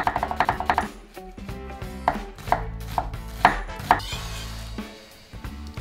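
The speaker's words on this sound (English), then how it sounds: "cut up about a quarter of an onion and a couple cloves of garlic" A knife chops through a quarter onion and garlic cloves on a board, in bursts of quick rhythmic thuds followed by single slower cuts, close and crisp, with no voices.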